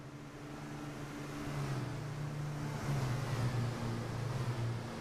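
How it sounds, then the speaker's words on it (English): Racing trucks in the ETRC digital racing game at the Zolder circuit rumble past the pits with a flat, low engine drone that builds and holds steadily, loud and close, with no voices over it. "A distinctive flat sound as the trucks rumble past the pits."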